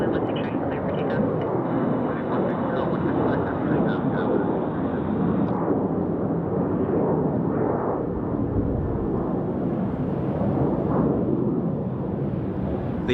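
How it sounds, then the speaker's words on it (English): An Alaska Airlines Boeing 737-900 takes off from Salt Lake City, a loud, continuous, distant jet roar that stays steady and broad throughout, with a voice speaking over it. "The old 737-900 for Alaska."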